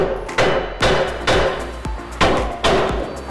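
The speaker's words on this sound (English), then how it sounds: "I might just have to put a little tiny hammer action on there." Five sharp metallic hammer strikes on a Nissan Titan ball joint at a steady, unhurried pace, each ringing briefly before the next blow, close and fairly loud with no talking.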